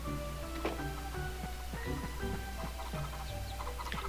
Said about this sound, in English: the chickens are just talking